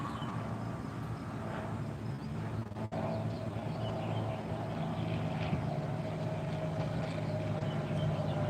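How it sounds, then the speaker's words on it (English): An airplane passes overhead with a low, droning engine hum that holds steady and moderately distant through a broad outdoor rumble, with no talking. "Another airplane just went by."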